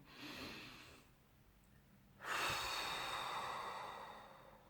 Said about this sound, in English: a deep inhale from the nose and a deep exhale from the mouth